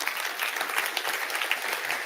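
An audience at a stage hypnosis show breaks into steady, dense applause, a close wash of many hands clapping continuously through the whole moment.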